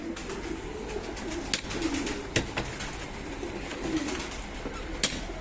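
Pigeons in a loft coo steadily in low, soft calls, with occasional sharp clicks and flutters cutting through a constant murmur of birds.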